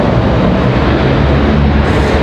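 A Boeing 737-800 airliner lands at Raleigh-Durham International, its engines and rushing air making a loud, steady broadband roar with no voices.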